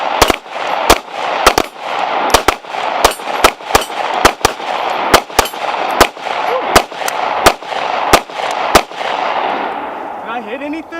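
AR-15 rifle gunfire at an outdoor range during practice drills: about seventeen sharp, loud shots at an uneven rhythm, some in quick pairs, over steady background noise.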